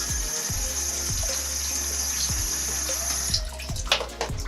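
Tap water running steadily into a basin for foot care, a close, continuous splashing stream with faint drips and small clunks toward the end.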